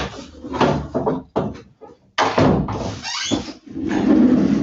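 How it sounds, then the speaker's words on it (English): A door closes at home with a few knocks, rattles and a thud mixed into rustling handling noise, up close and fairly loud, with no talking. "I'm just going to close this door behind me really quick"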